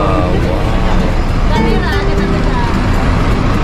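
Busy Malaysian street with a free city bus passing close by, a steady loud roar of engines and traffic mixed with crowd babble and voices throughout.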